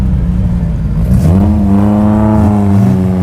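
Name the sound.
Toyota MR2 race car engine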